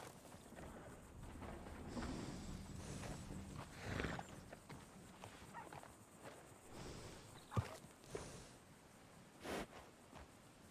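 A skinny horse in Red Dead Redemption 2 walks with soft clip-clop hoofbeats, with a few snorts and louder bursts, faint and close in a quiet scene.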